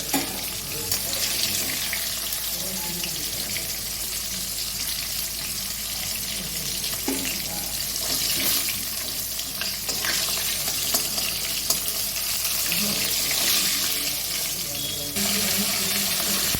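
Steady sizzling of aar fish pieces, including head and tail, frying in hot oil runs throughout, with occasional clinks and scrapes from a utensil; no talking.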